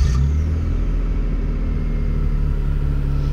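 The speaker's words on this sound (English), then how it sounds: "You could hear that geo engine and the mailman muffler" An Elio car's small Geo engine rumbles steadily with a loud, throaty muffler drone, heard up close and continuous throughout.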